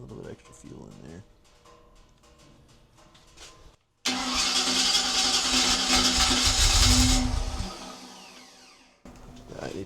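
A freshly rebuilt Ford 302 V8 cranks and fires into a loud, roaring first run for break-in, revving high before dropping away; quieter shop noise and speech come before the start.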